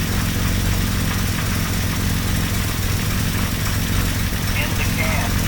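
A car engine idles steadily, its low, even rumble and faint mechanical vibration holding at a constant loud level throughout, close by.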